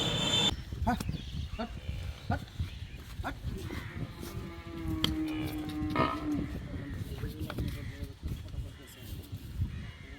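Jersey cross calves moo at a cattle farm in Chattogram, one drawn-out low call standing out among scattered animal noises and shuffling, with faint people's voices in the background.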